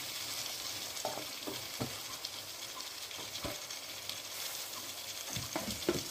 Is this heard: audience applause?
no